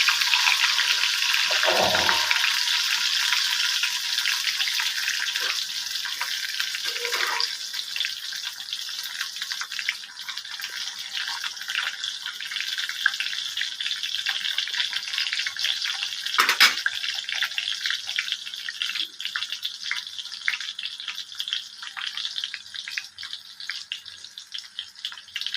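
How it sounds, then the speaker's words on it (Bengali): Eggplant pieces coated in salt and turmeric fry in hot oil in a wok, giving a steady, close hiss and sizzle that runs throughout, with a few brief clatters from the pan. "বেগুন ভাজা হচ্ছে।"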